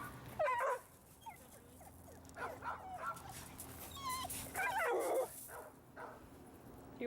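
A dog being assessed with treats for service-dog training whimpers and yips in short, high, wavering bursts, close by and fairly loud, with soft background noise between the cries.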